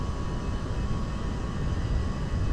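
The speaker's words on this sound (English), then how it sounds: "it's the engine that's really loud." A loud aircraft jet engine drones from inside the cabin, a steady, dense broadband roar with no pauses and no voices.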